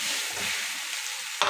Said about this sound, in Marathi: बटाटा व्यवस्थित मिक्स करून घ्यायचा आहे फोडणीमध्ये.